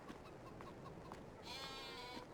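Sheep in Farming Simulator 22 bleat faintly a few times over a low background, followed by a brief brighter bleat near the end.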